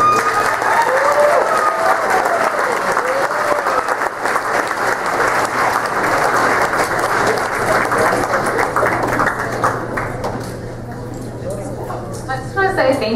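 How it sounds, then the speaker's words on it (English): A large audience at Cal Poly's Night of the Mustang 2012 gives a sustained, loud round of applause for an honoree, dense clapping filling the whole stretch and thinning slightly toward the end. "everybody give me a round of applause for Angie Haven."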